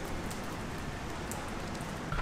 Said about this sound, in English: It is raining outside.